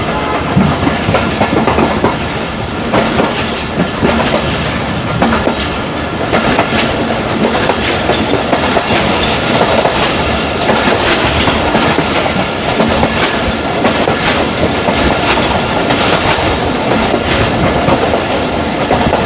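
A Pakistan Railways train runs on the rails toward Chaklala station, heard from the guard's cabin as a loud, continuous rumble with a steady clickety-clack of wheels and no voices.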